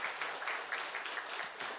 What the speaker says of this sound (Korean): 우리 크게 감사 축하의 박수를 돌리겠습니다